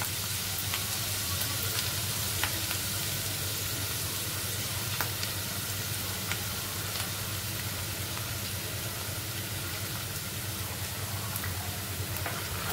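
Chicken lollipop sauce with three spoonfuls of tomato sauce sizzles loudly and steadily in a pan while being stirred, a dense, even frying hiss running throughout with faint scrapes of the spoon, close up.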